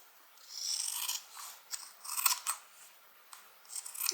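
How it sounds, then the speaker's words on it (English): Scissors trimming fabric for a Compton carryall bag: a series of soft, crisp snips in irregular quick bursts, close and quiet, with no voices. "I am going to just trim this back a bit"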